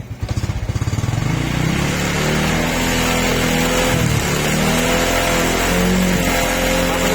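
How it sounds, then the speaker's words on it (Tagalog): A motorcycle engine revs and holds steady at high speed after an idle start, close and loud throughout, with an uneven, slightly misfiring tone after a full-wave charging conversion and no battery fitted. "re-rev ko po"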